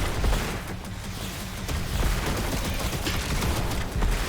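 Dense, rapid gunfire from the Contra: Operation Galuga video game, a steady crackling barrage of shots and small blasts that runs loud throughout with no pauses.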